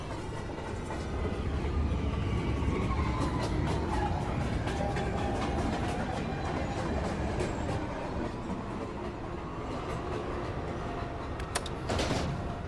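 An R262 subway train on the MTA in a video game rumbles along the track at a steady pace, with rhythmic clicks and rattles and a brief hiss near the end. No one speaks.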